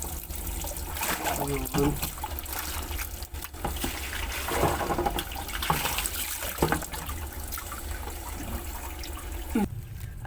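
Water runs and trickles continuously as soapy laundry items are rinsed in a bathroom, with splashes and sloshing throughout and someone speaking over it.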